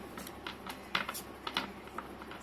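Tarot cards being shuffled by hand, giving soft, papery riffling flicks in a brief uneven burst, close and quiet with no talk.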